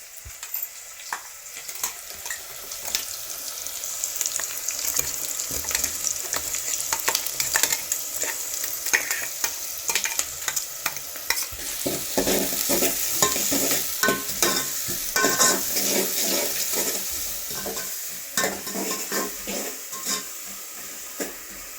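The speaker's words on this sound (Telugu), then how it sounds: "పచ్చిమిరపకాయలు పేస్ట్ వేస్తున్నాను చూడండి" Green chilli paste frying in a pan while a spoon stirs it, a continuous bright sizzle broken by rapid scraping and clinking strokes that grow busier in the second half.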